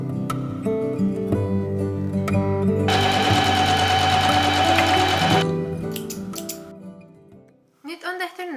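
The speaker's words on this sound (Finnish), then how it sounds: "Ja sitten mä vielä ompelen molemmat puolet yhteen." A sewing machine stitches trouser legs made from duvet covers, a rapid whirring burst lasting a few seconds that then slows and stops, followed by a few clicks, with a voice speaking briefly at the end.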